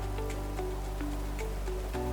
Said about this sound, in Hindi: बिना मौसम की बरसात हो गई है।